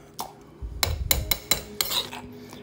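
Mason jars being handled and capped after filling with homemade salsa, giving a few sharp glassy clinks and metallic taps in quick succession, close and fairly loud, with no talking.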